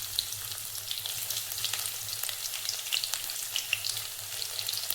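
Crushed garlic fries in a pan for a capsicum gravy, giving a faint, steady sizzle with small crackles and pops throughout and no talking.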